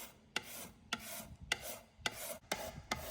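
Peeled taro root being thinly grated, with a steady run of rasping strokes at roughly half-second intervals, each a crisp scraping burst, close and quiet with no voices.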